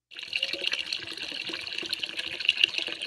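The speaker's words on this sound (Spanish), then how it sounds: "aquí estamos llenando el estanque" Water pouring into a small duck pond lined with a plastic bag, a steady, close splashing and trickling stream heard alone.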